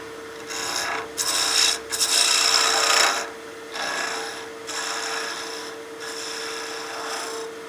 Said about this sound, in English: That bevel's basically heating up the oils in the wood and is polishing that surface.